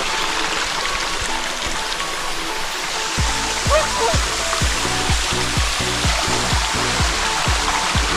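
A waterfall at a dam in Thailand rushes as a steady, loud broadband roar, with a rhythmic thumping underneath from about three seconds on.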